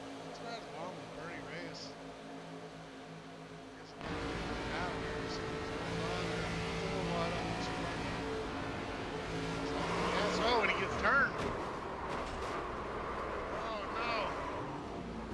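A damaged race car engine in an ARCA series racing game at Auto Club Speedway, a steady droning roar that swells louder partway through, with a commentator talking over it.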